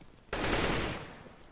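Gunfire in a first-person shooter video game erupts as one loud, dense burst of rapid shots that starts abruptly and then fades over about a second.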